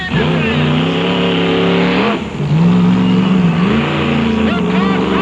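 A drag racing car engine revs loudly on the track, a deep roaring drone that dips briefly midway and then climbs again in pitch, with a voice heard faintly under the engine noise.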